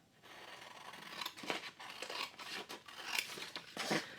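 Scissors snipping through paper in a run of crisp, irregular cuts with rustling between strokes, close and moderately loud, no talking.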